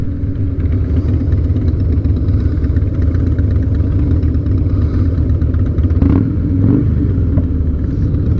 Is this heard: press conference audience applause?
no